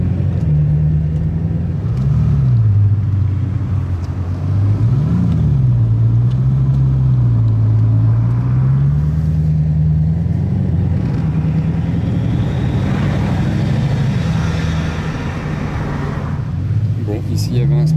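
Bugatti Chiron Super Sport driving in a convoy of three Chirons, heard from a following car as a steady deep engine rumble rising and falling in pitch, with someone talking over it.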